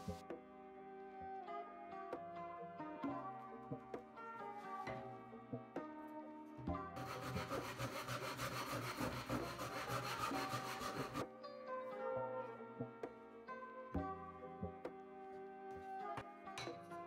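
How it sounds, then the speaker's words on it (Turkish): A hand saw cuts a length of wood to 31 cm for a DIY sling puck game board, with a few seconds of steady rhythmic strokes over background music. "Orta kısma gelecek ağacı 31 cm kesiyorum."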